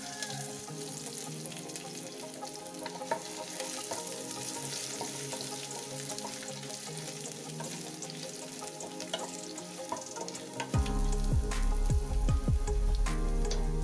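Ginger and garlic fry in a pan with a constant dense sizzle and crackle, nearby and without voices, turning louder and lower near the end as more is stirred in.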